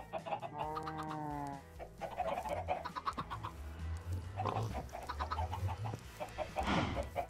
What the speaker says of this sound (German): Unsere Hühner fressen